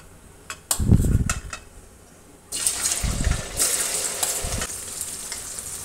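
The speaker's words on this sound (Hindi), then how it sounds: "हाई फ्लेम पे इसे हमें अच्छे से फ्राई करना है।" Taro root pieces drop into hot oil with ghee over a high flame, setting off bursts of bubbling sizzle after a few clanks of the pan, with the frying growing loud and steady after a quiet stretch.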